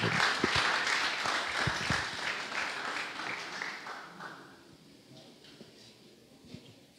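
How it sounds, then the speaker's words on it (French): Church congregation applauding after a preacher's sermon, a dense wash of clapping that is loud at first and then gradually thins and fades toward the end. "Assemblée, on applaudit, serviteur bon Dieu, qui a venu porter parole là."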